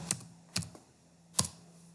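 Three sharp, separate keystrokes on a computer keyboard while entering a command in AutoCAD, close and clear, spaced irregularly over a quiet background with a faint hum.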